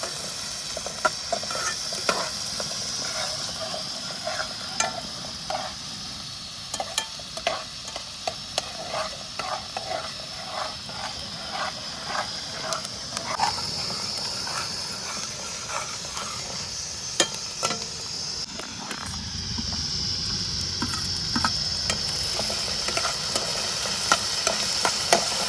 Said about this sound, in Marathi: आता कांदा टाकूया. कांदा परतून घेऊया.